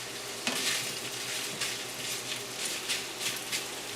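Kielbasa sausage sizzling and frying in a pan, a steady crackling hiss with occasional louder spits and bursts, close and continuous without talk.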